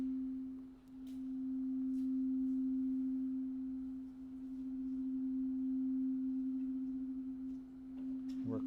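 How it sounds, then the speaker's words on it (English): A steady synthesized sine tone hums alone in a live coding session, pitched in the low register with slow swells in level and a faint chirp near the end. "sine wave at the same frequency as our graphics sine wave"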